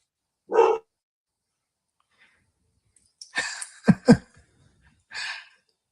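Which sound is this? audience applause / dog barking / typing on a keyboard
dog barking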